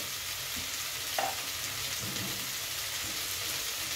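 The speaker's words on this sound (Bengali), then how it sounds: "মাছের তেলটাকে আমি ভাজা করে নিচ্ছি।" Fish fat fries in a pan, giving off a continuous close sizzle with fine popping spatters and one brief clink of a utensil, heard on its own without talk.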